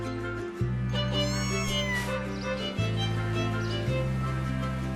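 Kittens meow in the Mika and the Witch's Mountain video game, a few high, short mews heard over steady background music.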